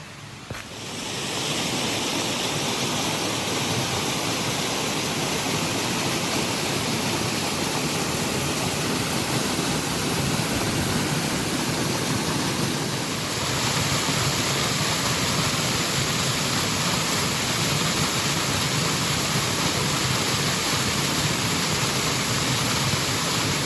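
The Cascades waterfall on the Blue Ridge Parkway roars as a dense, unbroken rush of falling water, loud and close, holding steady with no voices for over twenty seconds.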